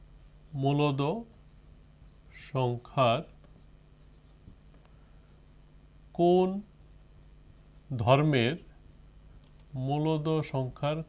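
A pen scratches faintly on paper while a maths question is written out, and a voice speaks in short bursts between the strokes in a quiet room.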